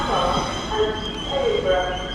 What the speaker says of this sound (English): Departing now with your 1629 LNER Intercity 225 set from London King's Cross to Newcastle.